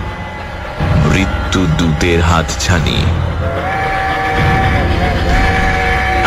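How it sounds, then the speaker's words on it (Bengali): A train roars through the night in a Bengali suspense audio drama, with a heavy rumbling rush and a sustained whistle-like tone, while a narrator speaks over it. "নিঃশব্দ রাতের শান্তি ভঙ্গ করে গম গম করতে করতে ছুটে আসছিল ট্রেনটা"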